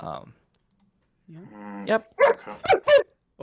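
A pet dog in a home during a live gaming talk session gives a short whine, then several sharp, close barks in quick succession. Brief talking comes just before the barks.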